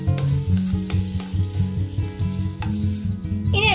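Spoon scraping and stirring through liver roast with dried chili and curry leaves in a sizzling pan, close and steady, with light frying hiss and a few metallic knocks against the pan.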